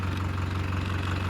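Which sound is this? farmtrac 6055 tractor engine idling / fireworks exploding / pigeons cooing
farmtrac 6055 tractor engine idling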